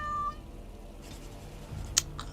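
A cat meows in a video game, one clear meow near the start followed by a quiet stretch and a brief sharp sound near the end, with no talking.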